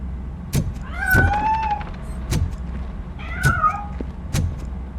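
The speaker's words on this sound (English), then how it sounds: "That cat must be hiding inside. Let me lure it out." A cat in the Robocop video game meows twice in drawn-out, rising and falling cries, punctuated by several sharp thumps at a moderate distance.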